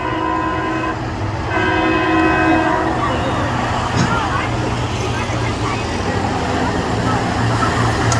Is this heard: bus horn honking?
yes